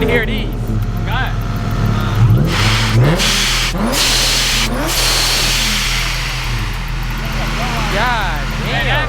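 A Procharged Infiniti G37 engine revving at a loud car meet, with several rising revs and a steady low rumble close by, while people talk and shout over it.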